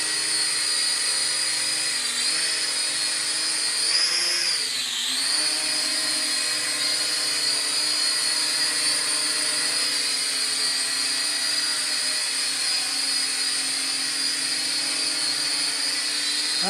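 A Helicute H818HW toy drone hovers indoors in a confined room, its propellers giving a steady, close, high-pitched whine that wavers briefly as it shifts position and then holds even and unbroken.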